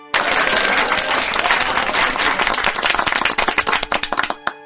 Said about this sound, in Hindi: लो बजा दी तालियां